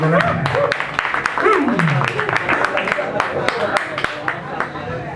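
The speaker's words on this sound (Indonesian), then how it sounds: "Minta tepuk tangan yang paling keras dulu boleh." Scattered claps and cheering from a stand-up comedy audience, with a voice running over the top through the whole stretch.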